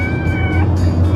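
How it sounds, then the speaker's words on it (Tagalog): Newborn kittens crying and meowing, a few thin high-pitched mews rising over a steady low background hum, close and fairly loud. "umiiyak yung mga kuting niya"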